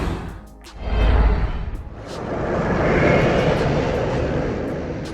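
A whoosh transition effect made from a passing aircraft recording: a loud, broad engine roar swells, peaks and slowly fades as it sweeps past. It plays alone, with no voices.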